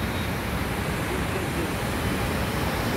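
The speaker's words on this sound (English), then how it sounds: "Look at the water flowing, rushing out." Floodwater roars over the overflowing Hussain Sagar Tankbund in Hyderabad during heavy rain, a dense, steady rushing wash that stays loud and unbroken throughout, with no voices.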